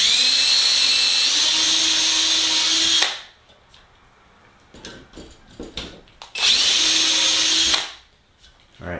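Power drill boring a hole through a Sonex aileron counterweight, two loud sustained whining runs of about three seconds each, separated by quiet clicks and handling noise, close up with no talk.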